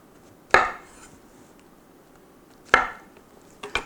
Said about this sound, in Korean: 이런 식으로 4등분 하셔서 스테이크 가니쉬를 쓰시는 게 좋아요